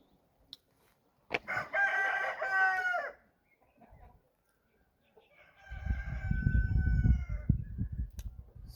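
A rooster crows once in a long, clear call nearby, followed after a pause by a second, lower crowing cry over louder rustling and scratching noise.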